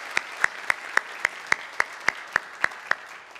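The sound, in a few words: congregation applauding to welcome newcomers in church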